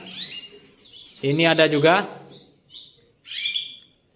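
Caged songbirds offered for sale chirp in short bright bursts, and someone talks between and over the calls up close.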